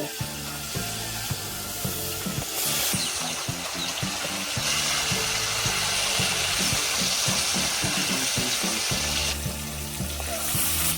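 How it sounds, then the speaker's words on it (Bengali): Boiled cabbage frying in oil with salt and turmeric, a steady close hiss and sizzle running throughout with brief louder surges, no voices over it. "সেদ্ধ করা কপিটাকে এবার ভেজে নেব তেলের ভিতরে"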